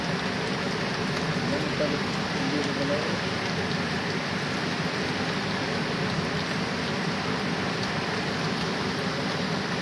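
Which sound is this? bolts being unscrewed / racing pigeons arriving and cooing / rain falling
rain falling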